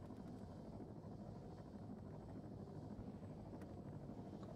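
Helicopter in a military video game, a continuous low rumbling drone with wind-like roar, steady and fairly faint, a few small clicks on top and no voices.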